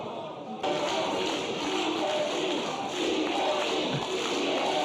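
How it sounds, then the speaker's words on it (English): Dense, steady roar of a wrestling crowd at Korakuen Hall, swelling suddenly after a brief quieter start and holding loud throughout, with a commentator's voice faintly under it. "a very savvy crowd at Corkin Hall throughout the years"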